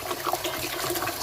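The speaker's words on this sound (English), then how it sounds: "Give the rice a little swivel with my hands" Rice is rinsed by hand in lukewarm water for basmati rice, giving a close, continuous sloshing and swirling of water with soft splashes throughout, no talking.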